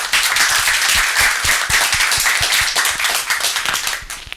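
A conference audience applauds a speaker being introduced, with dense, loud clapping that keeps a steady rhythm for several seconds and then thins out toward the end.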